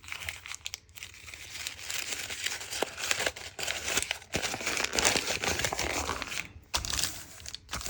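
Paper being crumpled and wrinkled by hand for a mini journal, a close, continuous crinkling and crunching that runs throughout with brief pauses.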